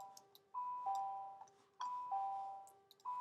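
A two-tone ding-dong doorbell chime rings repeatedly in a steady pattern, faint and clean, with no voices around it.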